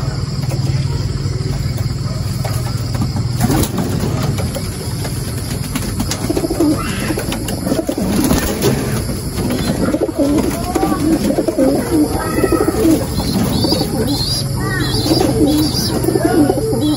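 Pigeons coo steadily and fairly close in a racing-pigeon loft, their soft repeated calls layered with a few chirps from other birds under a constant hum.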